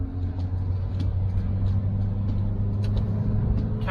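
A Toyota Camry drives steadily, its engine a continuous low rumble with road noise, close and loud throughout with no voices.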